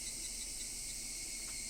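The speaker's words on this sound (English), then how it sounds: "Only the cry of the cicadas remained annoyingly loud" Cicadas drone loudly and steadily throughout, a continuous high buzzing chorus with no other sounds.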